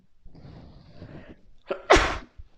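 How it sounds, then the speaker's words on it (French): One loud, sharp sneeze bursts out near the end, preceded by a quieter breathy intake and a smaller catch of breath, close to the microphone with no talk over it. "quand j'éternue"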